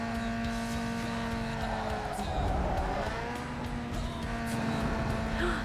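Racing car engine from Need for Speed: Underground 2 roars steadily with a sustained tonal whine, rising and falling in pitch over a constant loud rumble, with some tire noise, throughout.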